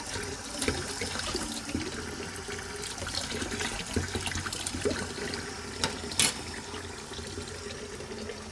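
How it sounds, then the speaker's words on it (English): A spoon and dishes get rinsed under a running kitchen tap. Water pours and splashes steadily, close to the mic, with a few clinks and knocks scattered through it. "I'm going to give these a rinse. First, before I have my coffee."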